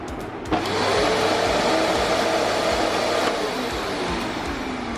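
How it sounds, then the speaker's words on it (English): An LG 1600 watt vacuum cleaner switches on and keeps running with a loud, steady whining roar close by, its pitch easing slightly over the seconds, with no talk. "This one is 1600 watt, which is really good and ensure powerful suction."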